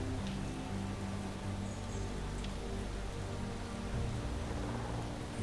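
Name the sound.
rain in the video game Space Engineers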